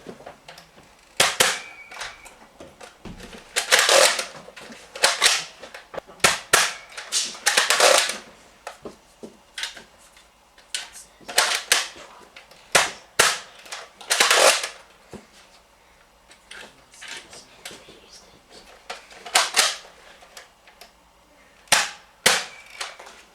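Modified Nerf SOCOM blaster firing foam darts over a hard floor, with about a dozen sharp, close snapping shots in irregular bursts, and darts clattering as they bounce.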